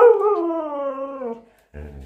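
A dog howls in one long, wavering tone that slides gradually downward and fades, then a short, lower whimpering cry begins after a brief pause.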